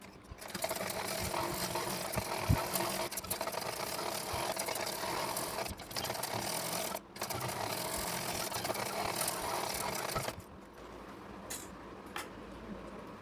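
A sewing machine stitches a belt onto a petticoat, running in a fast, even mechanical whir broken by a few brief pauses, then stopping and leaving faint handling sounds.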